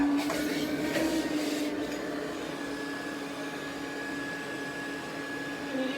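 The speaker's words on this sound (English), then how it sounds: "it is a wet vac." A steady, loud wet vacuum motor whine runs continuously with a constant hum, no pauses or voices.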